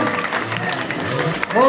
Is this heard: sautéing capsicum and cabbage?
no